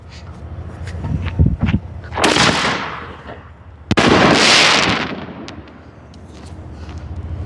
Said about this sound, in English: Those are really loud. I mean, we do a lot of canister shells, but these are pretty loud.